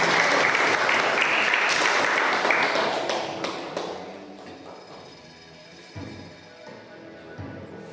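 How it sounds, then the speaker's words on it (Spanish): An audience at a student essay and speech contest breaks into loud, full applause that gradually dies away to a few scattered claps. "una vez más fuertes los aplausos"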